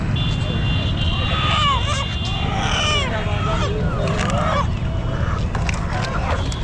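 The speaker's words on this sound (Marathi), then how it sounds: "इकडं बदक पण आलेले आहेत" Ducks and other poultry calling at the Chakan poultry market, with repeated honking, quacking calls rising over a dense, steady crowd murmur and people talking throughout.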